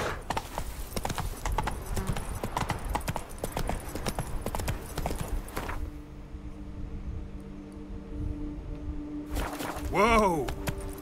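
Roach the horse walking in The Witcher 3, a close run of steady hoof clip-clops for the first half, then quieter ambience and a short whinny-like voiced call near the end.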